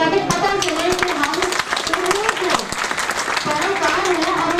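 An audience at a Diwali celebration in Lahore applauds. Dense, continuous clapping runs through the clip with a loud voice talking over it.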